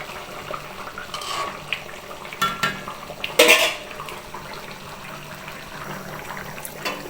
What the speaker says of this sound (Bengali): এখন আমি এই যে ভেজে রাখা মাছটা আস্তে আস্তে এর মধ্যে দিয়ে দেব।